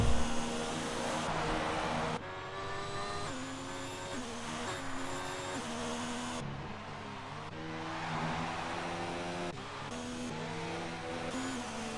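A racing car engine from a racing video game holds a steady drone with shifting harmonic pitches as it rises and drops through the gears. It runs continuously at moderate loudness with no talk.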